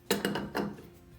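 An adjustable wrench tightens a braided toilet supply line onto an angle stop, producing three quick metallic clicks and scrapes close by in a brief burst.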